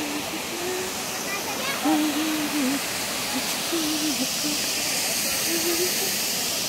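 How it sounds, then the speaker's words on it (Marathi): A large monsoon waterfall at Vita Water Falls, its muddy water pouring down hard, makes a steady, loud broadband roar throughout, with faint voice-like sounds beneath the rush. "तुम्ही आता पाण्याचा आवाज बघू शकताय तेवढं जोराने पाणी येतंय ते"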